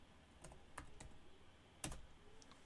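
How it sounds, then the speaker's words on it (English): Someone types on a computer keyboard: a few soft, scattered key clicks, one slightly louder, in a quiet room. "And I'm going to type in Gye-Nyame Journey show."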